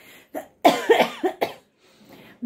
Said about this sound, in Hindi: मेरे खांसी भी हो रखी है